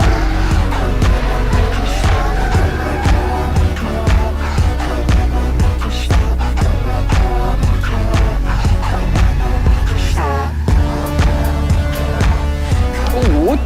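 A drift car on a dry track skids and spins after the finish line, its engine roaring continuously with tire squeal rising near the end, loud and close, while commentary plays over it.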